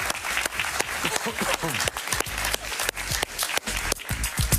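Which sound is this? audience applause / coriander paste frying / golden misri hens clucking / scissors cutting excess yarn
audience applause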